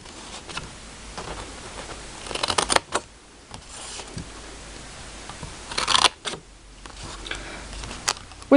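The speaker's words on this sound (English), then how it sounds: "grab a pair of scissors and you're going to be cutting along each of these score lines" Scissors snip through cardstock along score lines while a candy corn treat box is cut out: soft, scattered crisp cuts with a few louder bursts of close snipping and paper handling, alone and fairly quiet.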